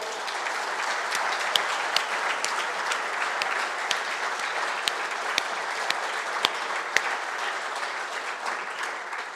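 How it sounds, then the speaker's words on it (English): Conference audience at an industry event gives a sustained round of applause, dense clapping with scattered sharper individual claps standing out near the front. "let's give him a round of applause."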